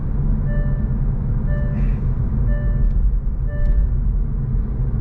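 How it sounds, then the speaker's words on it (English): A 2025 Hyundai i30 N Line's speed limit warning chime beeps four times at a steady one-second pace, each a clear two-tone ping riding over constant low road rumble. "It keeps beeping at you, telling you over the speed limit."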